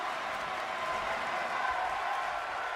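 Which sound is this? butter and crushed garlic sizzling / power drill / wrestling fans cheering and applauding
wrestling fans cheering and applauding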